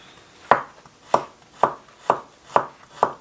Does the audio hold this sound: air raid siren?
no